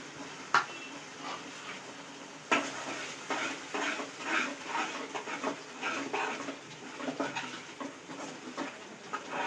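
Close, continuous stirring of yogurt into a kofta curry in a pan, soft wet scraping and light sizzling with occasional clinks of a spoon against the pan.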